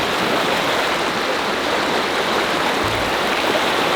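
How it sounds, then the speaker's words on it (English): The Virgin River in Zion's desert canyon rushes fast and full, a loud, steady broadband roar of flowing water heard close by with no voices. "Just shocked at how clear the water is, how fast it's moving, and how much there is here in the desert"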